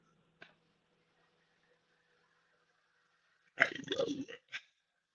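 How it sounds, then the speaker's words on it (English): A short burp after a sip of beer, preceded by a single faint click and followed by a brief trailing mouth sound, close and moderately loud against otherwise quiet surroundings. "that burp didn't taste good."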